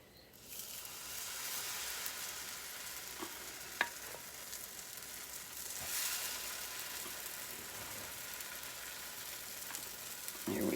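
Pancake batter sizzling steadily in a buttered pan, a continuous close frying hiss with a faint clink partway through and no talking.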